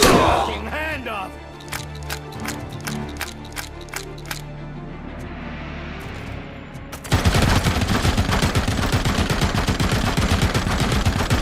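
Gunfire from the film RoboCop: a run of sharp, evenly spaced shots rings out early, then a dense, loud, sustained burst of automatic fire takes over near the end, with voices and scene noise mixed in.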